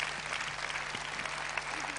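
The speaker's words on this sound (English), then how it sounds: "Give a big round of applause." Steady applause from an audience at a talk, a continuous patter of clapping with no gaps, moderately distant and unbroken for the whole stretch.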